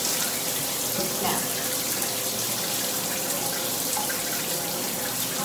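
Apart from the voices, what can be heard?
shower water running while rinsing hands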